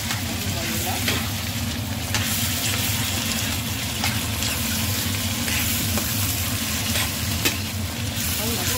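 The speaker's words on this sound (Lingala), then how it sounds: "Nazokalinga champignon na ngai na matungulu" Canned mushrooms frying with onions in a pan, a steady broadband sizzle and crackle running throughout with occasional stirring clicks, close and fairly loud, no talking.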